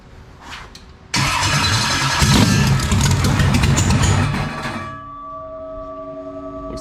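An engine cranks and catches after a fuel regulator adjustment, roaring up loud and close, then settling after a few seconds into a steady idle with a clear humming tone.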